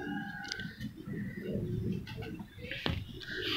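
Teddy breed pigeons coo close by in a pen in Mianwali, a run of low, breathy pulses with brief sharp noises and higher bird sounds near the end.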